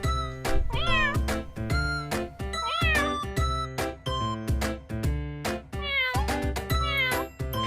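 A cat meows repeatedly, drawn-out rising and falling cries in a steady series, close and clear over a steady musical backing.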